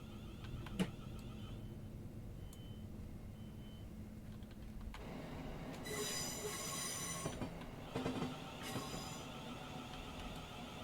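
A simulated Thameslink Class 700 train in Train Simulator passes with squealing wheels, starting with a quiet rumble and sharp clicks, then loud, shrill squeals from about five seconds that pulse and fade in bursts.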